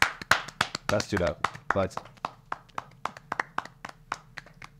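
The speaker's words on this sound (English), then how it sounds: "Oh, do we end with applause?" Podcast hosts clap along at the close of a political discussion show, a string of sharp, close taps and claps of uneven rhythm mixed with brief speech.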